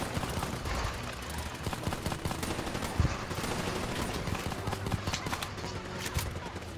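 Rapid automatic gunfire rattles through a Call of Duty: Black Ops 3 campaign firefight. The bursts are dense and continuous, with sharper individual shots standing out, and stay fairly quiet at a steady level.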